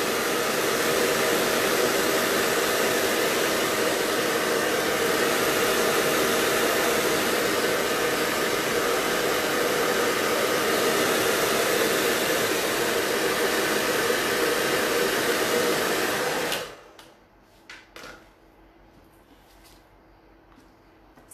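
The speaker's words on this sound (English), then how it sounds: "Just I will use the dryer." A hair dryer blows steadily at close range over decoupage work on a wooden MDF piece, a loud continuous whoosh that cuts off near the end, leaving faint room noise and small handling sounds.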